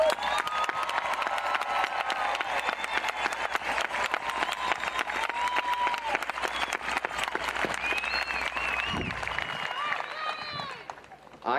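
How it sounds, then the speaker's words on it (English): A high school graduation crowd gives a long, loud, roaring ovation for the class of 2021, dense clapping with cheers that fades near the end. "Let's give a roaring applause to the Santa Fe High School class of 2021."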